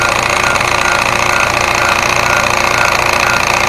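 A small model steam engine in a ship's engine room diorama runs with a loud, fast, even mechanical chatter, close and continuous, with no voices.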